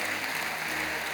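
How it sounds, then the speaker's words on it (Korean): A church congregation applauding during a Sunday service, a dense, even burst of many hands clapping that fills the room for a moment. "여러분 나중에 박수 치실까요?"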